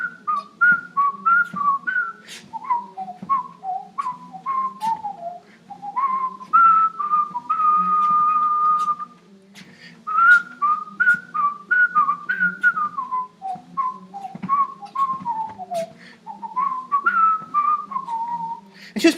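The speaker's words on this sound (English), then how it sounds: "She used to like to walk into town whistling a song, and the song went like this." A cheerful folk tune whistled by a woman, clear melodic phrases with short breaks and a longer held passage, close and alone over a faint low accompaniment.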